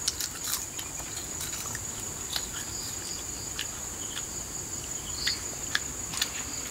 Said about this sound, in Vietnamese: soi này nhiều dế mèn lắm